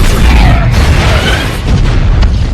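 The Capitol building explodes in the 2025 Superman film with a loud, deep boom, followed by a broad, rumbling blast that rolls on for a couple of seconds.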